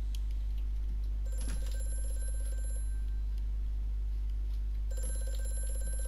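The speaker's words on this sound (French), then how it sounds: "Téléphone." A telephone rings in the horror video game Amnesia: A Machine for Pigs, giving two bell bursts several seconds apart over a steady low hum, with no talking.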